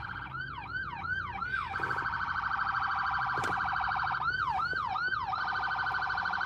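Wailing sirens rise and fall repeatedly, sweeping up and down in pitch, loud and continuous over steady road rumble, with no talking.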